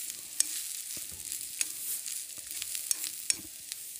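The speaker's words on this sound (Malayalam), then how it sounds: "ഇപ്പോൾ തേങ്ങയും ഒരു രണ്ട് കറിവേപ്പിൻ്റെ ഇലയും ഇട്ടിട്ട് നന്നായി ഒന്ന് എണ്ണയിൽ മൂപ്പിച്ചെടുക്കുക" Grated coconut and a couple of curry leaves fry in oil for a jackfruit curry, giving a faint, steady hiss with occasional sharp pops close by.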